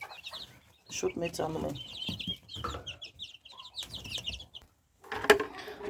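Hens clucking and calling close by in a backyard coop, several irregular bursts with pauses, mixed with someone talking.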